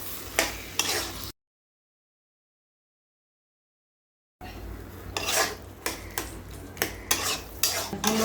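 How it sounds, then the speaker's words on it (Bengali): Shrimp and taro curry is stirred and mixed in a pan, with close scraping and clinking of a spoon against metal over a faint sizzle. A stretch of total silence breaks the stirring partway through. "সব কিছু মিক্স করে দেবো এভাবে নাড়বো আর মিক্স করবো"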